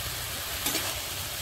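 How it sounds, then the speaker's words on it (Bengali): Spices for a broiler chicken curry fry in hot oil with a steady, even sizzle and a brief stir partway through, close and continuous with no talk. "আমি সব মশলা দিচ্ছি আর একটু ভেজে নিব এরকম করে"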